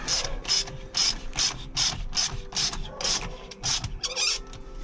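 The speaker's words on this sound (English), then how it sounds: "all you want to do is just tighten up the air intake pipe" A ratchet clicks in about ten quick bursts, tightening the air intake pipe on a Nissan 350Z fitted with a JWT pop charger intake, each burst crisp and close, with no voices.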